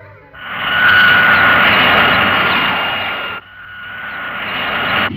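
Aircraft flying low over a school in an Ultraman TV show, a loud sustained jet-like roar that cuts out abruptly and then resumes a little quieter.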